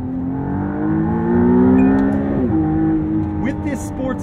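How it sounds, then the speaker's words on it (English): A McLaren Artura hybrid supercar with sports exhaust drones steadily from inside the cabin, rising in pitch and swelling louder before dropping with a gear shift and climbing again. "And what do we think about the engine note?"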